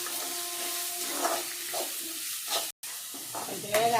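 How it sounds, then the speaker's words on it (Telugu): Curry leaves, coriander and carrot frying gently for vegetable semiya idli, a soft sizzle with faint stirring scrapes, interrupted by a momentary cut. "కరివేపాకు, కొత్తిమీర, క్యారెట్ అన్నీ వేసేసానండి. కొంచెం దూరగా వేగాలి"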